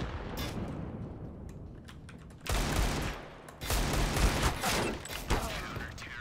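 Bursts of gunfire in a first-person shooter game, a run of loud shots crackling in clusters with brief gaps, while a player talks over the fighting.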